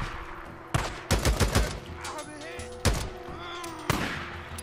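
AK rifle fire in the video game Days Gone: a loud single shot, then a rapid burst of several rounds, followed by two more isolated shots, all close and punchy with brief reverberant tails.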